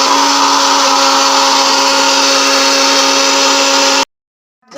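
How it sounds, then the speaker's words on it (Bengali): An electric blender grinds onion, ginger and garlic into paste for paneer biryani, a loud, steady whine that runs for about four seconds and cuts off abruptly. "পেস্টের জন্য নিয়ে নিলাম পেঁয়াজ, আদা আর রসুন, এগুলোকে নিয়ে এখন আমরা গ্রিন করে নেব।"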